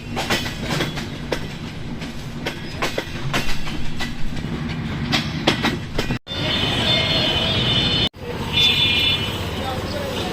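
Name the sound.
Silk City Express intercity train at Abdulpur Junction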